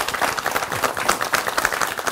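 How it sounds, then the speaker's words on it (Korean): Dense, close applause fills a hall at an arts city citizens' forum in Cheongju as the audience welcomes the city's mayor, steady clapping without pause. "그럼 한범덕 청주시장을 큰 박수로 모셔보겠습니다."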